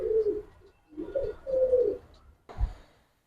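Giribaz racer pigeons coo in several rounded phrases, close and clear, with a short flutter or thump near the end and no talking.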